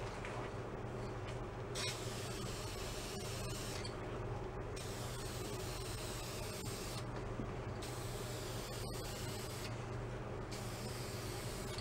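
A spray gun lays a wet coat of paint on a 1965 Karman Ghia, a continuous soft hiss broken by several brief pauses between passes, fairly quiet throughout.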